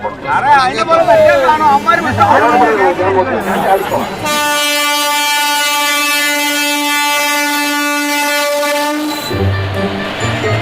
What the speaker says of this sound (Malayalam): ട്രെയിൻ കടന്നു